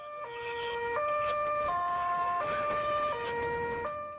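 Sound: ambulance driving with siren

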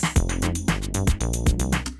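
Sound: Ableton Live track playing Rhodes, drums and bass

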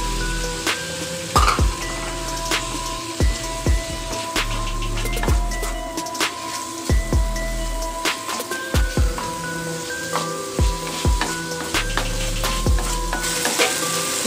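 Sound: onions and tomatoes frying in a kadai

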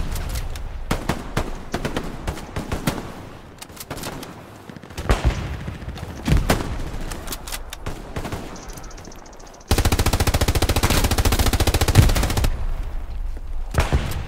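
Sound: machine gun firing in a video game

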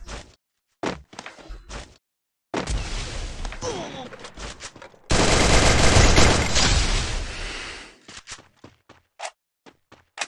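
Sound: gunfire in the video game Free Fire

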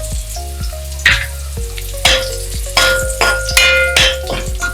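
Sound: chopped onion frying in oil for mutton rassa

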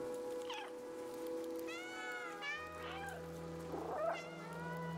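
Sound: cat meowing in video game Stray

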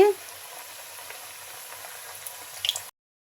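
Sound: dal pakon pitha frying slowly in oil on low heat

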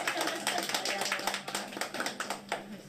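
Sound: audience clapping

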